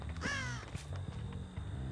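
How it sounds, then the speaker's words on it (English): A single crow caws in the video game Dead by Daylight, one harsh rasping call near the start over a low steady game ambience, with faint clicks afterward. "So that crow is over there."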